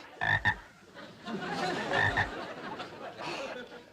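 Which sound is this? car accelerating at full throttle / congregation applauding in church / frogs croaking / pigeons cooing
frogs croaking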